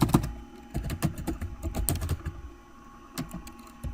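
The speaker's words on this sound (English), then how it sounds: "Yes, I can type." Rapid typing on a computer keyboard: close, crisp key clicks in irregular bursts with brief pauses, alone without talk.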